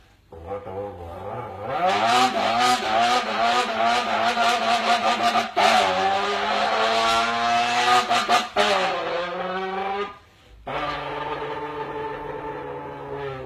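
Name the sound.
mouth imitation of a car locking its wheels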